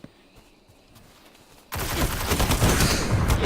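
Gunfire from the shooter video game Destiny in Crucible player-versus-player play: a quiet stretch with a faint click, then an abrupt, dense burst of loud shots and impacts that continues to the end.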